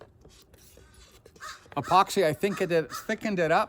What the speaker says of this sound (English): there's a crow there and the dogs